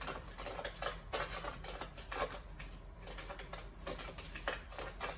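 Apple pie ingredients get mixed in a bowl, giving a busy, close run of rapid scraping clatter and clicks that keeps going without pause.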